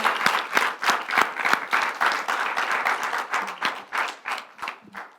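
A church congregation claps during a sermon, a dense run of sharp claps at steady strength for several seconds before thinning out near the end, with no speech over it.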